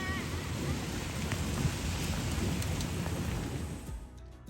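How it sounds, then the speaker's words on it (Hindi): Steady broadband rain patter in an outdoor setting, continuous and fairly close, fading out near the end with no talking. "तो मैंने सोचा थोड़ी सी बारिश आपके साथ भी शेयर की जाए।"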